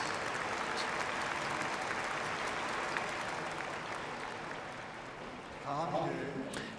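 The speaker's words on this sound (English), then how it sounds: "with a celebratory and heartfelt round of applause" A large congregation at an anniversary ceremony breaks into a celebratory round of applause, dense sustained clapping that fills the hall, easing slightly toward the end as a voice begins speaking over it.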